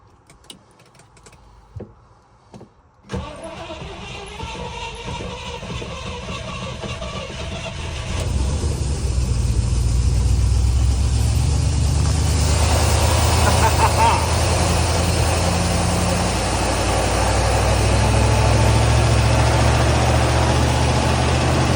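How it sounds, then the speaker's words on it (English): A 1973 Rover P5B engine, started for the first time in 26 years, cranks briefly and then catches, settling into a loud, steady, close idle that holds through to the end, with a few faint clicks before it fires. "it'd just be nice to actually see it splutter into life and let us know that we have got an engine that does run"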